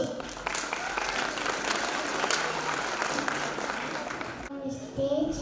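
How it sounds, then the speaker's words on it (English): Applause fills an annual function stage at a little preschool as two tiny anchors are welcomed. Steady, dense clapping from a crowd carries throughout, with a brief quieter moment near the end. "Please give them a big round of applause."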